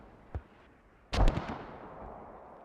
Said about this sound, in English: more mortars incoming, I want to see this